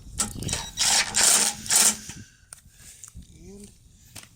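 An impact wrench removes a big bolt on a push mower, with several short loud rattling bursts up close followed by quieter handling sounds.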